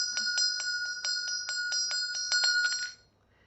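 A Tibetan Buddhist ritual bell rung in a quick, even run of bright metallic strikes that builds into a close, ringing trill for about three seconds, then stops abruptly instead of ringing out.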